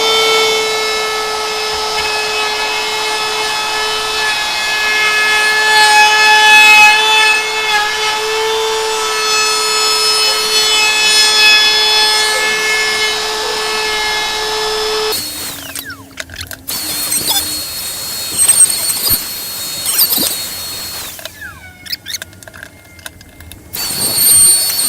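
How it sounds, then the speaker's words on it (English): A router fitted with a 3/8 round over bit cuts the edge of a turned black walnut coffee mug, a steady high whine that shifts partway through to rougher, uneven cutting bursts and pauses. "I'm using a 3/8 round over bit for my router"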